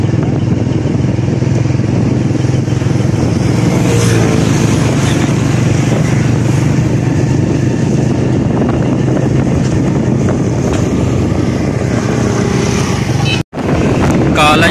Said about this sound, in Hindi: कॉलेज के बाहर मोटरसाइकिल का रश चेक करो